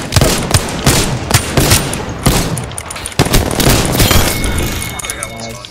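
Rapid bursts of gunfire from a shooter video game crackle and boom throughout, with sharp shots layered over a continuous battle din and a voice talking over the top.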